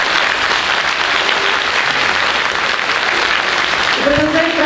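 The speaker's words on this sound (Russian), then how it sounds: "Ваши аплодисменты, дорогие друзья." A concert audience at a wind and percussion performance applauds in a dense, sustained ovation, and a voice begins speaking near the end as the clapping carries on.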